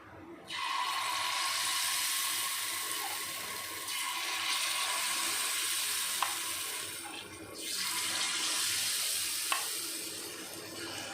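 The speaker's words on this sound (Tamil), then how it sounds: "இப்போ ஆயில் சூடாயிடுச்சு இப்போ நம்ம மாவை கல்லில் ஊற்றிக்கலாம்" Sathumavu (nutrition flour) batter sizzles and hisses steadily in hot oil in a paniyaram pan, a continuous close frying crackle with brief dips and small pops, no talking.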